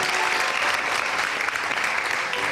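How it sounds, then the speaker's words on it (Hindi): Studio audience on a Pakistani entertainment talk show breaking into sustained, dense clapping, an even unbroken wash at moderate loudness throughout with no voices on top. "बहुत सारी तालियां"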